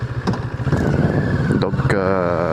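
CF Moto 400NK motorcycle with an aftermarket exhaust and about 2000 km on it, running steadily near the microphone with a low, even engine drone and a short rise in pitch toward the end.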